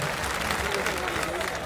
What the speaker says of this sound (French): On applaudit le coupé décalé,